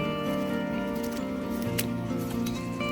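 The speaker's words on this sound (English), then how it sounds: "When it rains like this and there's so much water" Heavy rain patters steadily on a flooded homestead where chickens are kept, a dense, continuous wash of droplets with no break across the whole stretch.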